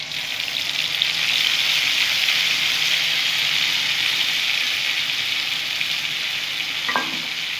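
Mustard and poppy seed paste ground with green chilli hitting a hot frying pan, a loud steady sizzle and crackle that holds close and even throughout, ending with a faint clink near the end.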